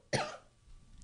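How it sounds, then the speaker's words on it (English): A single sharp cough in a live podcast setting, close and loud, fading into quiet room tone. "Excuse me, I'm going to cough here."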